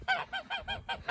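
Flock of geese in snow on a farm paddock honking in a quick run of five or six loud, close, nasal calls, no talking.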